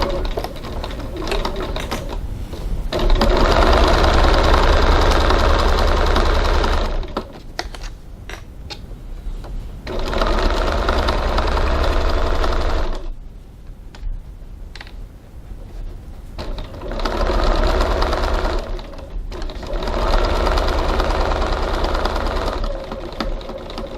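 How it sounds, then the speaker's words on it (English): A sewing machine stitches the top edge seam of a fabric bag in repeated bursts, loud rapid running stretches broken by short pauses and quieter handling, the motor rattling rhythmically each time it starts. "Now we're going to go over to the machine and stitch that edge."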